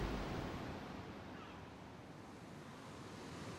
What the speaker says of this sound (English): They feared for their lives as the rolling waves crashed into their boat.